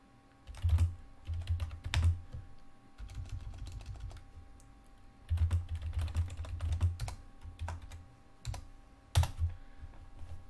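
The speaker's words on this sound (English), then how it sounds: "I'm gonna be typing in questions" Close keyboard typing on a computer keyboard, coming in quick bursts of clattering keystrokes separated by short pauses, fairly loud with no talking.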